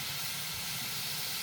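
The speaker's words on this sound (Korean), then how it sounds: "데워진 자갈돌 위로 뜨거운 물을 부어 스팀을 주었어요." Hot water poured over heated pebbles inside a preheated oven for baking sourdough campagne, giving a brief steady steam hiss with a low rumble beneath.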